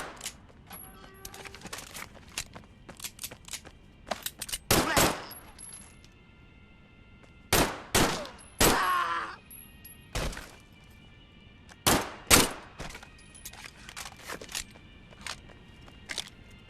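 Pistol shots ring out in the VR game Medal of Honor: Above and Beyond, sharp single reports and quick pairs scattered irregularly, with brief metallic handling clicks and faint game sounds between them.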